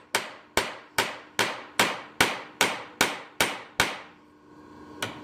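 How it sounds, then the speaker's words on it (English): A ball peen hammer strikes a 3/16-inch truss head rivet about ten times in a steady rhythm, each sharp close metallic blow ringing briefly, followed by a pause and one last blow. "Try to make it round with the end of the ball peen hammer."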